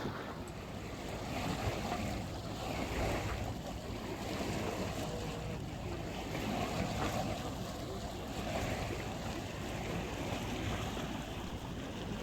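A sailboat motor sailing out into Mumbles Bay on a calm sea, its engine running under a steady, close wash of water and wind noise that holds for the whole stretch.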